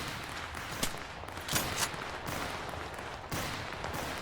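Rifle shots ring out in the shooter game Total Conflict: Resistance, a few separate cracks fired with Kar98 and Carcano bolt-action rifles over steady noisy battlefield ambience, no talking.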